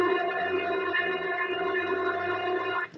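A voice through the robot effect of a Galaxy DX99v CB radio, monitored on a Cobra 90, comes out as a buzzing, metallic, chorus-like drone that holds steady for about three seconds before cutting off.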